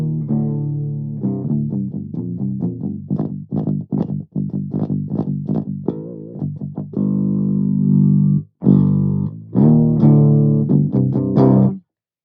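An Ormsby electric guitar tuned to drop G, played clean through an amp, picking a run of quick plucked notes that gives way to longer sustained chords, close and clear with no voice.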